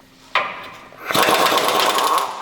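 A power tool spins out a bolt on the differential of a Chevy 2500 truck, starting with a sharp click, then a loud, steady rattling whine that holds to the end.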